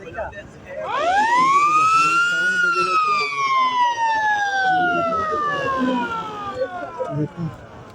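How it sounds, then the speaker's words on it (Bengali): A large ship on a river among hills gives a loud wailing siren-like tone that sweeps up quickly, holds, then slowly falls over several seconds above a low background rumble. "স্পিড কন্ট্রোল করার জন্য কেমন আওয়াজ দিচ্ছে দেখুন এত বড় জাহাজ"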